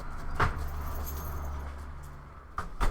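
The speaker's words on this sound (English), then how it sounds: "that's some loud traffic." Steady rumble of passing road traffic, with a few sharp jangling clinks close by and no talking.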